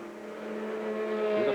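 A Ferrari race car driven by Mimmo Schiattarella runs under the Billy Mitchell Bridge toward turn 14 at Road America during the 2000 Road America 500, its high engine note droning steadily and growing louder as it approaches.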